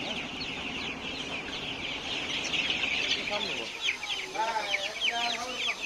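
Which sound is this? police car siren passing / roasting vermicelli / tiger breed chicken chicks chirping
tiger breed chicken chicks chirping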